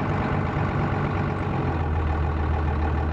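A 12-valve Cummins diesel engine running steadily just above idle, with a continuous low, rough rumble that is loud and close and holds even throughout.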